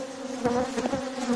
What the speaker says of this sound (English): I can see bees creeping up my leg and stinging me